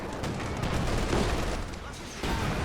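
Battle din from Company of Heroes as a Panzerfaust is fired at a Stuart tank, a dense wash of gunfire and explosions rumbling continuously with a sharper burst near the end.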